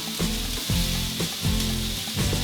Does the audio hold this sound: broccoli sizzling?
yes